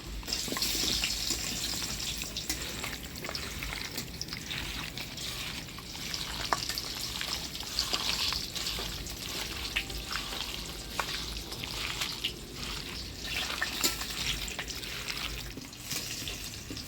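Mutton being mixed by hand with turmeric, salt, spices and mustard oil, a soft wet squelching and slapping that continues steadily for a long stretch at close range, with no talking.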